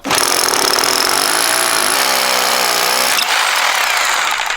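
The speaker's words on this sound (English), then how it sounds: "Pass this 16mm SDS bit all the way through the brick to the other side." A hammer drill fitted with a 16mm SDS bit bores through brick, loud and close, a continuous hammering whine that shifts pitch partway through as the bit works deeper.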